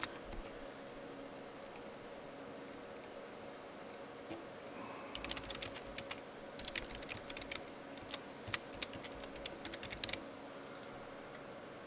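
Gibberish typed into an online form on a computer keyboard, a quiet room tone at first, then a burst of fast, close key clicks of uneven rhythm for several seconds before settling.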